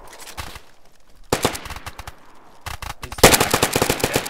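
Loud automatic gunfire from the survival game DayZ, three separate bursts of rapid shots, the last the most intense, with quieter stretches between.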